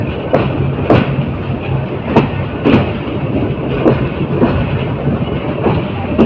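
The Titas Commuter train crosses the Burashal railway bridge, its wheels giving a steady rolling rumble with sharp rhythmic clacks and thumps over the rail joints, heard close from on board.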